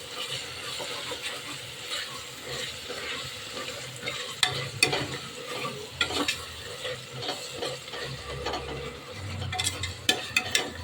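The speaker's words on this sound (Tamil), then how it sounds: "இதெல்லாம் சேர்த்து நல்லா ஒரு 2 நிமிஷம் வதக்கலாம்." Green chillies and coriander sautéing in a pan for biriyani, a close crackling sizzle broken by scraping spatula strokes and clicks, steady with no talking.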